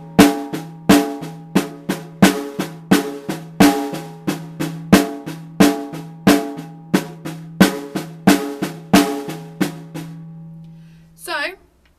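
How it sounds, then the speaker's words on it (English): Accented triple paradiddle rudiment on a drum, a run of crisp strokes with louder accents recurring at regular intervals, close and prominent, ending in a brief voice after the playing stops. "so to remember this you can add the accents like the double ones and it should sound like this"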